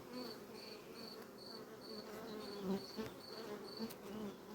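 Honeybees buzz steadily on hive frames during a colony inspection, a dense continuous drone with a few closer individual bees passing, no talk.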